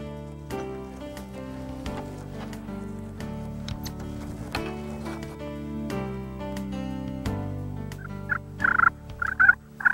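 A wild turkey gobbles in short, rattling bursts near the end, heard over steady sustained tones.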